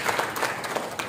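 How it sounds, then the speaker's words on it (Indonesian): Audience clapping at a ceremony for early-childhood education officials in Papua, a brief burst of steady, fairly close applause with no talking over it. "Mari kita tepuk tangan."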